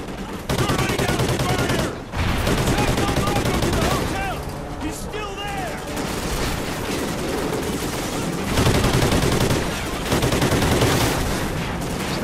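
Rapid bursts of automatic gunfire and shots fill a Call of Duty Ghosts firefight around a parking garage, loud and nearly continuous, with voices talking over the shooting.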